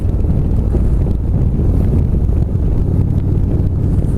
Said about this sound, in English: It's a cold and windy day